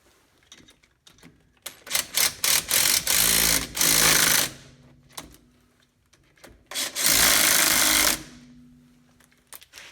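A power tool drives in the brake caliper bolts on a Ford F-150. It gives two long whirring bursts of about two seconds each and several shorter blips, close and loud, with quiet pauses between them.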